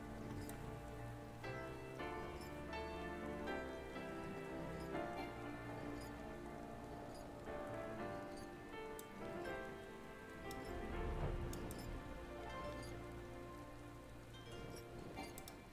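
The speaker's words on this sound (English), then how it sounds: "It's quite unusual that it's raining in this place." Steady rain patters softly in the video game Final Fantasy 14 Heavensward, faint dripping and ticking laid under a quiet, sustained musical backdrop.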